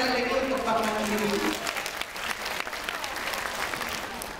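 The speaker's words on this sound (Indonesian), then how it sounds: "Luar biasa, tepuk tangan sekali lagi untuk Bank Mandiri." An audience applauds a bank, Bank Mandiri, at a formal event in Hong Kong; steady clapping fills the clip while a voice speaks over the first part before fading out.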